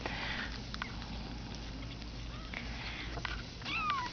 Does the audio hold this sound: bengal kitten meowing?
yes